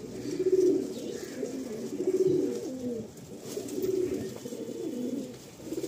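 Madrasi pigeons coo repeatedly in a loft, a steady run of low, throaty rolling calls that rise and fall in loudness over a constant background hum.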